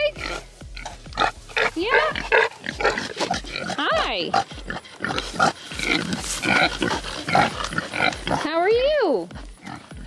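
Kunekune pigs kept alongside Nigerian Dwarf goats grunt and squeal in short repeated bursts close by, mixed with rustling and brief human talk.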